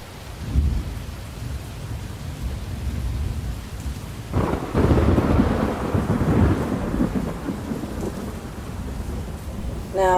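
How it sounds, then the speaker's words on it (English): Heavy rain and rolling thunder from the video game Twisted, a steady dense downpour with low booming thunder swelling in the middle and loud cracks near the start and end. "And here are the heavy rain sounds."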